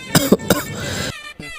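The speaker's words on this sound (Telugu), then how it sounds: "ఏంటి దగ్గు, ఏమైంది?" A person gives a few short, close coughs in quick succession, followed by a quieter pause and one more faint cough.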